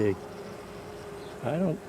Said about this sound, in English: there's a bee fanning, a couple of bees fanning